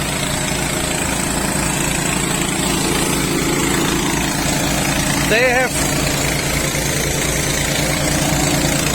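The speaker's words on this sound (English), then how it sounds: "Well, two little generators basically." Two small generators run steadily at the edge of a remote Kalimantan forest, a loud continuous mid-pitched engine drone, with a voice briefly heard over it.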